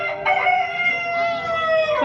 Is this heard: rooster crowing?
yes